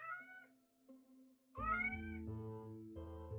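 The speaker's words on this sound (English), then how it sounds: "Oh, they meow." A cartoon cat in the video game Hidden Kittens: Kingdom of Cats meows several times in quick succession, clear and close, its cries rising and falling in pitch.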